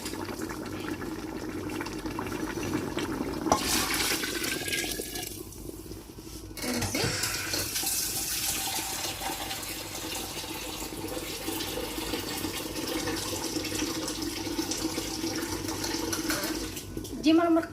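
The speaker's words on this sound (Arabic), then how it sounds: "دابا كنمرقها بالماء سخون." Hot water pours into a pot of fried onion and tomato base for a broth, a sustained gushing fill that surges midway, while a voice talks over parts of it.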